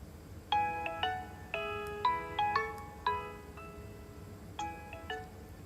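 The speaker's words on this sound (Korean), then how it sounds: "진솔 언니 전화해볼까?" A phone's outgoing call ringback plays as a soft melodic chime tune, repeated tone patterns in several short phrases, heard faintly and alone.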